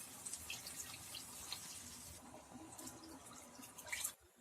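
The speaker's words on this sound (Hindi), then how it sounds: "हम इसमें पानी डाल देते हैं।" Water pours into a pot of chicken salan curry over spices that have been fried, a soft continuous splashing trickle heard quietly and close, tapering off at the end.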